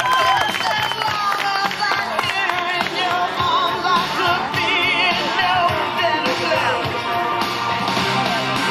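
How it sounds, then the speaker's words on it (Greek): Applause from the audience at a dog show honoring Groenendael Belgian Shepherds in the ring, steady clapping and crowd noise with music and a voice over a loudspeaker. "Τους χειροκροτούμε όλους."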